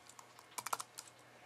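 Quiet typing on a computer keyboard, a short burst of a few soft key clicks close by with no talking.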